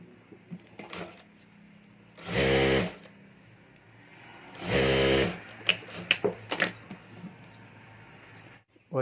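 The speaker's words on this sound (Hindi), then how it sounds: "यहाँ भी हमें जिप के साथ अस्तर रखकर हमें सिलाई कर देनी है" A sewing machine stitches the lining and zip of a home-made sling bag in two loud bursts of a couple of seconds each, with quieter handling clicks and rustles in between.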